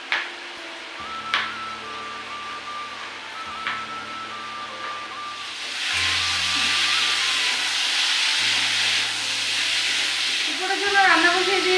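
A kadai (wok) heats on a home kitchen stove while a meal of rice and cauliflower-potato curry is prepared; a few faint clinks come first, then a steady, moderate sizzling hiss fills the second half.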